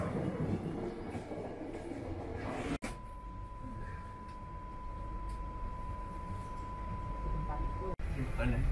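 An Argo Muria passenger train rumbles steadily at Gambir station, Jakarta, with a sustained tone, a couple of sharp cuts and a voice talking over the noise.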